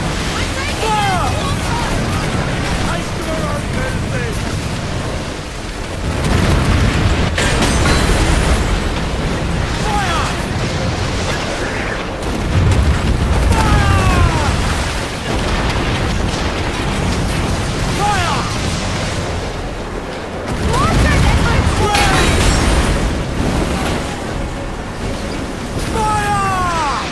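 Ship cannons firing in Assassin's Creed Black Flag, a naval battle game: heavy booming blasts in several rolling bursts over surging sea and creaking ship noise, loud and close, with shouting voices at times.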